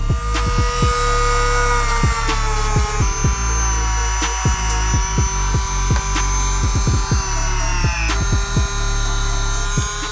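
A Dremel rotary tool whines steadily at high pitch while grinding factory glue off a Jordan 3 shoe midsole, with repeated sharp scraping bursts and clicks as the bit bites, loud and close with no voices.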